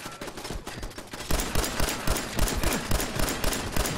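Automated turret in Fallout 4 firing sustained rapid bursts of gunshots, loud and dense, with continuous overlapping reports and no talking.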